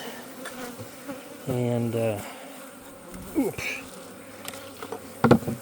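Honeybees hum steadily in a busy buzz around a hive being checked before winter, with louder swells as individual bees fly close; a person says a word briefly.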